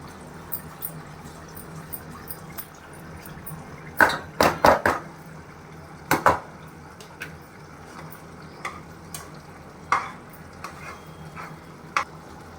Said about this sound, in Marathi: आता त्यांनी ती पावडर सर्व टाकून दिली त्याच्यामध्ये मटणात आणि व्यवस्थित मिक्स करून घ्यायचं